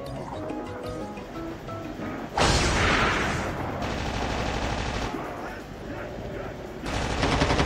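Gunfire is exchanged in a battle royale video game, with rapid automatic bursts and sharp shots over a rushing background din, loud and close, punctuated by a few heavier blasts.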